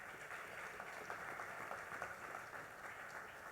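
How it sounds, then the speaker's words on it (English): An audience at an Orlando real estate masterclass applauds a top local agent, sounding like a steady wash of many hands clapping, faint and somewhat distant, without any talk over it. "let's give a giant round of applause to one of the top 20 agents in Orlando"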